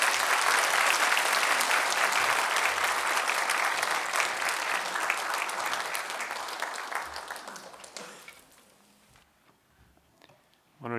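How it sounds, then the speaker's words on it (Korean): A Sunday morning church congregation greets the preacher with loud, dense applause that holds steady, then thins and fades to near quiet before a voice starts at the very end. "박수로 맞이하겠습니다."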